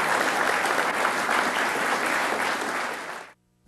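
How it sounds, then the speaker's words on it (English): An audience applauds at the end of a talk session: dense, even clapping from many hands holds steady for about three seconds, then cuts off abruptly into silence. "A round of applause."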